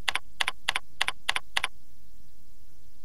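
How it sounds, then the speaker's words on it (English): Six quick paired bursts of keys tapped on a computer keyboard, spaced evenly over about a second and a half, then quiet room tone; close and crisp, no voices. "Type teacher in the region name box"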